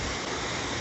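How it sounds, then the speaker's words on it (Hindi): The Pindar river and a tributary stream rush along on the trail to Pindari Glacier, a dense, steady roar of flowing water filling the whole moment without a break. "पिंडर नदी की और गधेड़ों की आवाज़ है"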